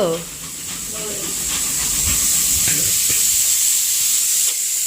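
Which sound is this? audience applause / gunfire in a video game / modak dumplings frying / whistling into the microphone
modak dumplings frying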